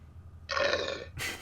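A man lets out a loud, close burp lasting about half a second, followed by a shorter second burst, in a quiet room during a casual podcast recording.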